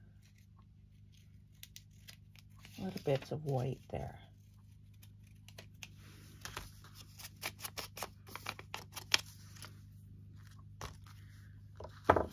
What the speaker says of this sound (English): Just going to take the scissors and cut off that extra